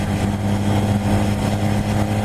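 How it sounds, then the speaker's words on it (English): A steady, low, bassy engine drone hums continuously from the exhaust of a 2017 BMW S1000 R motorcycle at a certain RPM, rumbling evenly with no talking. "depends on a certain RPM, you can hear the drone of its exhaust."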